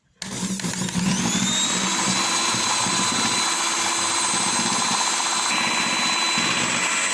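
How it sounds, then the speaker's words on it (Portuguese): An electric hand mixer whirs steadily and loudly through cake batter made with water and oil, a continuous motor drone with no talking. "Paro de bater com a batedeira."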